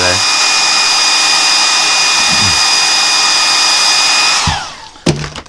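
Hair dryer blowing on watercolour paint, a loud steady whine running without a break for over four seconds, then switching off and winding down, followed by a couple of brief clunks as it is handled.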